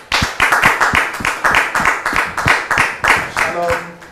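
An audience claps in rhythmic bursts to welcome a guest onto a stage, the applause close and loud, with a host's voice speaking over it near the end.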